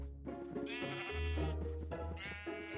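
Sheep in Minecraft bleat twice in quick succession, each a wavering nasal cry, close and clear over a low background hum, with no one talking.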